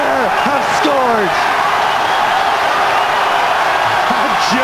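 Stadium crowd at a Munster versus Sale rugby match roars loudly and continuously after a Munster try, a dense sustained wall of cheering with whoops and a commentator's voice talking over it.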